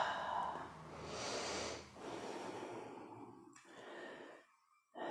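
Slow, deep breaths come close and quiet during a yoga balance pose, a long drawn inhale and exhale followed by a shorter breath before a brief silence.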